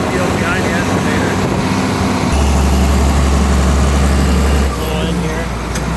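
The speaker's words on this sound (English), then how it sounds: "She's an old tractor." An old John Deere 4440 tractor engine runs with a steady low drone and a deeper hum partway through, while a voice speaks over it in a farm field.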